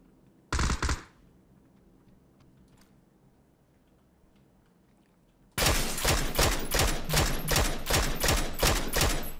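Gunfire in the battle game PUBG: one brief loud burst near the start, then a quiet stretch, followed by a long rapid string of close, loud automatic shots.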